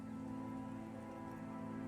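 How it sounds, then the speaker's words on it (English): Rain pours steadily in the Disco Elysium video game, a faint continuous downpour hiss with a low hum underneath, even throughout with no voices. "The women are caught in the downpour."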